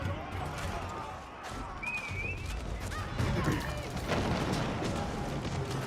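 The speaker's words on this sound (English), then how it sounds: "When the Royal Cannons do go down, get barraged by the Master Trebuchet." Siege cannons and trebuchets firing in the real-time strategy game Age of Empires 4, a dense, continuous battle barrage of booming shots and impacts, moderately loud, with a commentator talking over it.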